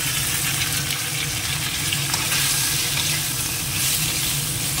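Potatoes, green plantain and eggplant fry in hot oil in a pan, a loud, continuous close-up sizzle and crackle with occasional stirring, steady throughout with no voices.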